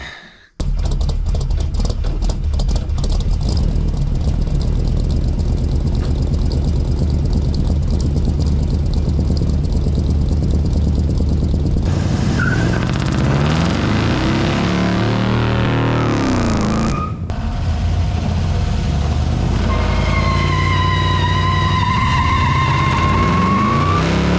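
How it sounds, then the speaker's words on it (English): A small block Chevy V8 in a 1992 Chevy C1500 truck runs loud and close through its exhaust, rumbling steadily, then shifting in pitch as it revs and moves off, with no talking. "So here's some sound of the exhaust when it had the small block Chevy in it."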